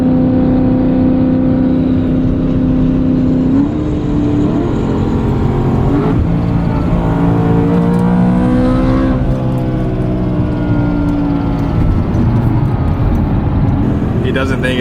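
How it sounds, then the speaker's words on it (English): A supercharged BMW E90 engine runs loud and steady throughout, with rising and falling revs and a shift in pitch partway through, under continuous nearby talk. "You guys are about to see an E90 supercharged"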